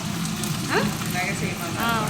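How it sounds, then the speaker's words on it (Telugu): Drumstick leaves fry in a hot pan as a tempering, giving a loud continuous sizzle and crackle heard up close, with faint voices in the background. "దుర్గా వేరుగా చేస్తుందన్నమాట మునగాకు తాలింపు"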